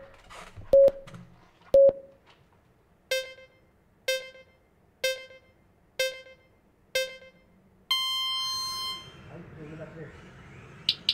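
An electronic start signal for a MINI-Z EXP class RC car race sounds as a sequence of short evenly spaced beeps, two lower tones then five higher ones, ending in a longer held tone as the cars pull away.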